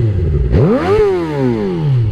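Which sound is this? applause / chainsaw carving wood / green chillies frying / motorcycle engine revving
motorcycle engine revving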